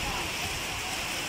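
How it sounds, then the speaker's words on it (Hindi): Intense rain lashes down in a windstorm strong enough to break trees, a loud unbroken roar of water heard close by. "इतनी तेज बारिश हुई है कि दरख्त भी टूट रहे और साथ में आंधी भी बहुत ज़्यादा है।"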